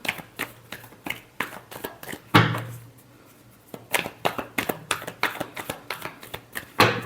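Tarot cards shuffled by hand in rapid riffling bursts, close and crisp, with one louder riffle and a brief quiet pause before the shuffling resumes.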